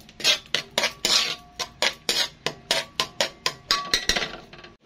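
A utensil mixing seasonings, including pepper powder, in a bowl, giving a steady run of sharp clinking strokes about three per second, close and fairly loud, with no talking.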